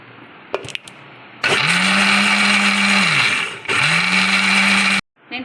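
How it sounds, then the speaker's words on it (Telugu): A mixer grinder blends mango lassi in pulse mode, two loud motor bursts each spinning up and winding down, separated by a short gap, after a few faint clicks at the start. "పల్స్ మోడ్లో మిక్స్ చేసుకోవాలండి."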